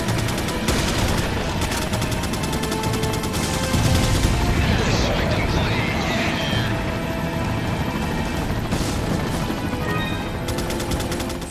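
Sustained bursts of rapid gunfire in the video game Resident Evil 4, loud and dense with overlapping shots and booms, while someone talks over the action.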